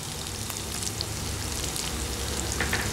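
Coconut pieces fry with onions in a pan for a brinjal dish, giving a close, continuous crackling sizzle with fine popping and no voices.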